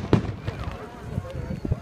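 Fourth of July fireworks burst over Charleston, South Carolina in 2015, with a few dull booms and crackles at a distance while voices of onlookers murmur nearby.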